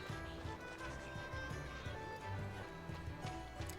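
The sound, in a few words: horse hoofbeats from a video game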